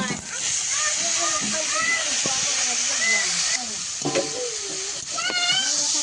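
Bottle gourd pieces tipped into crab frying red in hot oil with neem leaves, a steady close sizzle with stirring and sloshing, while a voice talks over the cooking throughout.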